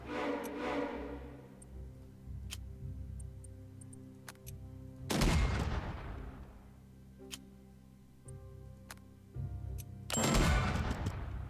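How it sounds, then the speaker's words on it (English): Artillery fire in the Unity of Command II strategy game: three or four heavy booming blasts with long decaying tails, spaced several seconds apart, amid scattered light ticking clicks and no talk. "we managed to completely suppress these guys with artillery"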